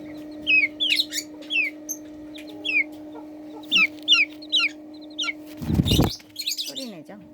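Bright, repeated chirps of Silkie chicks, about a month old, sound close by in a quiet indoor space over a steady low hum, with a louder rustling thump near the end.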